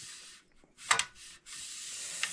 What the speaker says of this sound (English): I'm just gonna wipe down the piece of metal.